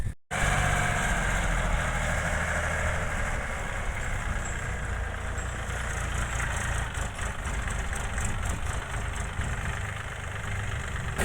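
A mini tractor engine idles steadily beside a potato planter in a garden plot, a continuous close mechanical drone running unbroken throughout with no talk.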